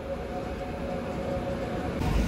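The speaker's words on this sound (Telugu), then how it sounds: "అటుపక్క గూడ్స్ ట్రైన్ వస్తుందండి" A goods train rumbles past near Anantapur railway station, a broad continuous roar with a steady tonal hum, heard from aboard a departing MEMU passenger train.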